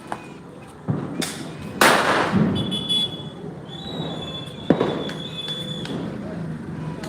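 Several sharp Diwali firecracker bangs burst out at intervals, followed by crackling and a hissing spray of sparks, with faint voices in the background.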